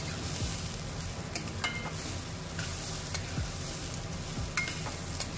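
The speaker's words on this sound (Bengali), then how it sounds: "নুন দিয়ে আবারও বাকি 1 মিনিট ভেজে নেব" Rice for peas pulao frying and being stirred in a pan with salt added, a steady close sizzle broken by light scraping and clinking of the spoon against the pan throughout.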